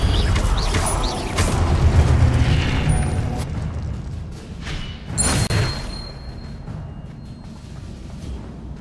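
Blasting spell explosions in Hogwarts Legacy: a heavy rumbling boom swells early on, then a second sharp burst cracks out midway before fading into a low, lingering rumble.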